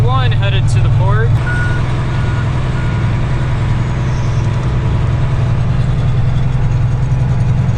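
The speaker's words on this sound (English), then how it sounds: "Truck number 1 headed to the port." A truck bound for the port idles and pulls away, its low engine drone steady and loud throughout, with a reversing beeper chirping briefly at the start.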